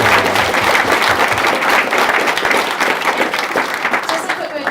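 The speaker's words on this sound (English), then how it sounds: "So one last big round of applause to thank Aaron for coming in" A big final round of audience applause at a Startup Grind Auckland event, thanking the guest speaker, Aaron Patzer; loud, dense, sustained clapping from a crowd filling the room, with a few voices mixed in.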